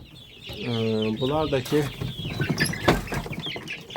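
Chicks and chickens, mid-October hatchlings with a rooster among them, cluck and peep close by in a backyard flock, their calls overlapping as someone talks over them.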